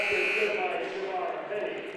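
A long, steady basketball game-end buzzer sounds at a high school game between Saginaw and Hamtramck, sustained through the full two seconds with crowd noise and commentary voices underneath.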